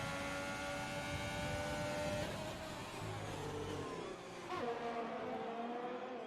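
Formula 1 cars race in the F1 2020 game at the Vietnam Grand Prix, with a steady, high-pitched engine whine and shifting gear tones as cars hold close together, with no talk.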